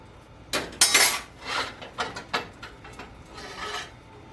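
A metal utensil scrapes tomato bacon jam out of a pan in a quick series of close, sharp scrapes and clinks, loudest near the start, then softer rubbing strokes.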